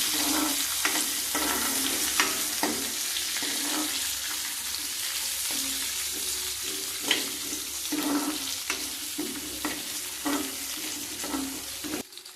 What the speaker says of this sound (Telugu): క్యారెట్ ముక్కలు వేసుకుందాం ఇవన్నీ ఒకసారి కలిపి బాగా ఫ్రై ఫ్రై అవనిస్తామండి